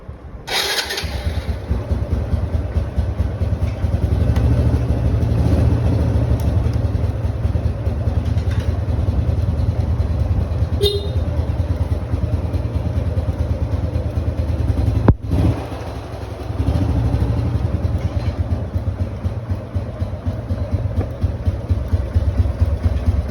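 A used vehicle engine with disc brakes starts and settles into a steady, loud idle, heard close and alone. There is a brief dip and a small blip partway through.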